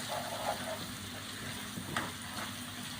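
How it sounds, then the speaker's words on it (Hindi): Garlic ginger paste fries in a pan for a dhaba-style palak aloo, a quiet, even sizzle heard alone for a few seconds. "मसाले को बहुत अच्छे से भूनना है।"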